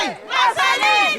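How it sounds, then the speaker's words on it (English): A protest crowd yells in unison, loud overlapping voices rising and falling in rhythmic chant-like waves, with no pause across the stretch. "we can hear what the crowd is shouting"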